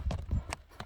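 A stout, heavily built horse brought for sale takes a few clip-clopping hoof steps, close by and fairly soft, three or four uneven beats on hard ground.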